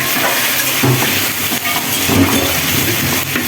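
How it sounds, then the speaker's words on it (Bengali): Onions fry loudly in a pan for a roast, giving a dense, continuous hissing sizzle that swells and dips slightly, with no talk. "এখন এই যে রোস্টের জন্য পেঁয়াজ ভাজা হচ্ছে"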